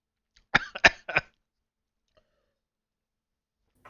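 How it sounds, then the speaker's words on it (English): Three quick, sharp coughs close to the microphone, brought on by a sip of water, followed by near silence. "and then the water made me cough"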